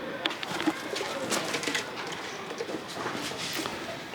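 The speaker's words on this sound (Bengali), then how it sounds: "এই যে কবুতরও আছে।" Pigeons coo softly at a grandfather's house garden in Shibganj, Chapai Nawabganj, their low calls blending into a busy, steady outdoor background of rustling and distant activity, with no one speaking.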